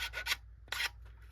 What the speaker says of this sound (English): Just a little bit of file work.